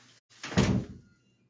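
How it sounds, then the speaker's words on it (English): A door in a house closes with a single soft, muffled thud, close by and otherwise quiet. "Close the door."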